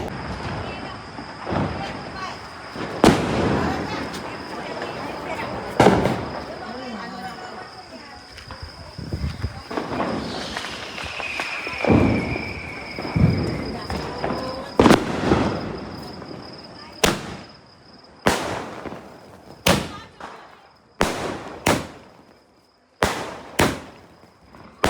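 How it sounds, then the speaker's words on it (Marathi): Firecrackers and fireworks go off at a family Diwali celebration, with a rapid series of sharp, loud bangs and crackles, some clustered near the end, while people talk and call out between the blasts. "आता बघू, एकदम मस्त फटाके फुटता येईल."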